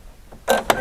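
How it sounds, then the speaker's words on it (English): Presser foot clipping onto a Brother Innov-is NQ3600D sewing machine: two quick plastic-metal clicks close together, the second sharper, near and fairly quiet. "The feet just clip on and off."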